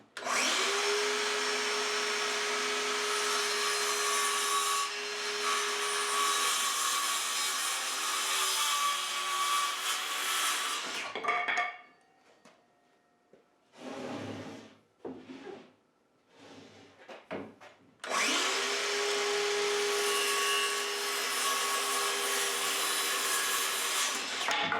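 A power saw makes quick cuts through beveled wood board ends, with a long loud whining cut, a brief pause with short bursts and knocks, then another sustained loud cut.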